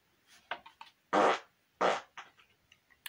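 Several short, loud farts in quick succession, two bigger blasts standing out among smaller sputtering bursts, close and dry with no talking.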